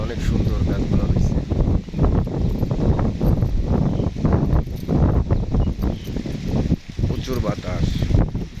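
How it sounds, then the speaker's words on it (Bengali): Strong wind gusts through a banana plantation during a rainstorm, a steady loud roaring rush with rustling and buffeting close to the microphone, continuous throughout. "প্রচুর বাতাস।"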